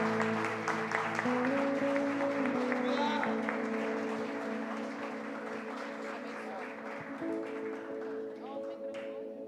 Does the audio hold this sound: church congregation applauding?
yes